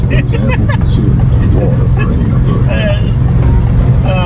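Inside a 1972 Dodge Coronet on the road, heard from the passenger seat: a loud, constant engine and road rumble fills the cabin while voices talk over it.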